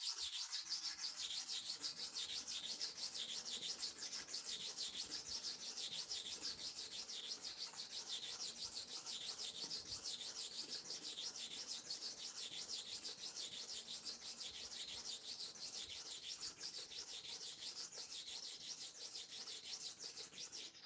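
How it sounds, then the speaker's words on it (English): A hair clipper blade is sharpened by hand with light, slow, repeated strokes, producing a steady faint grinding rub that runs continuously, close and without speech. "You continue doing it till you sharpen the clipper blade finish."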